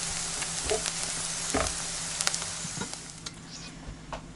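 Onions sizzle in a frying pan with a steady, hissing crackle, broken by a few sharp pops and scraping clinks of a utensil, close and moderately quiet with no talking.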